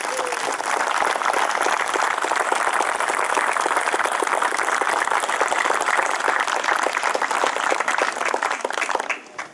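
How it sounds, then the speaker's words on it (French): Audience applauding the mayor of La Lande-Chasles at an outdoor inauguration ceremony, a dense, steady crowd of clapping held at full strength for nearly ten seconds before tapering off abruptly at the end. "applaudissez celui qui nous invite"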